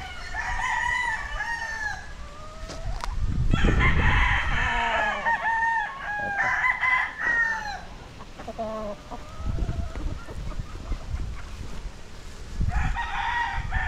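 Roosters crow loudly nearby, several overlapping calls, while chickens cluck and murmur throughout amid backyard farm noise in Ibaan, Batangas, Philippines.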